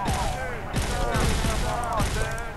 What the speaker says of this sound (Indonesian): ini ledakan yang cukup hebat ini terjadi di sini